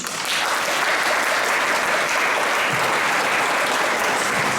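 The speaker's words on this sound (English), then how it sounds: "Another round of applause for our Samba band" A crowd applauds steadily and loudly, a dense wash of clapping that holds at an even level throughout.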